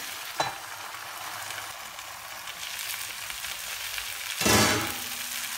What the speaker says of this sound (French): Un bout de beurre d'environ 20 grammes qu'on va laisser fondre et on recouvre pour 2 minutes.